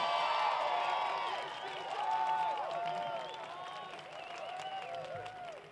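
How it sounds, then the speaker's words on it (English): A graduation crowd gives teachers a round of applause, a dense, sustained wash of clapping in a large hall with a few scattered cheers and whoops, fading slightly then swelling again. "Let's give them a round of applause"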